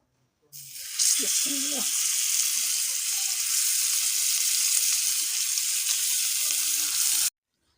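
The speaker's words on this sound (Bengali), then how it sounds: "এবার হচ্ছে মাছটা বাজি করে নিই" Fish frying in a pan gives a loud, steady hiss of sizzling oil that starts abruptly and runs unbroken for several seconds before cutting off, with a few faint background sounds early on.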